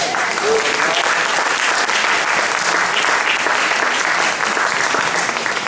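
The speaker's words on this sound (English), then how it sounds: "Give them a round of applause." Sustained applause from a large poetry-event audience fills the whole stretch, dense, steady and loud, with faint voices mixed in.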